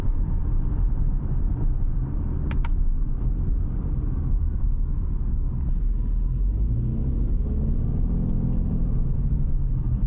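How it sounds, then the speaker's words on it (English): Turbocharged Subaru Outback wagon with an automatic transmission driving along, a loud steady engine and road rumble from inside the cabin, with a faint rise in engine tone late on. "a turbocharged wagon with a total slush box for a transmission that's kind of really sick"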